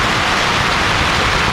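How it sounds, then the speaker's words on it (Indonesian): Heavy rain pouring at a beach in Ujung Kulon National Park, a loud, dense, continuous hiss of downpour close by, with no talk. "dengan kondisi hujan yang lumayan deras"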